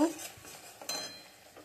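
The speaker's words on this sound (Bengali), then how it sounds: "আর এখানে মশলা কষাচ্ছি।" Spices for a koi fish curry are sautéed in a pan, with soft clinks and scrapes of a utensil and a light sizzle, quiet and brief.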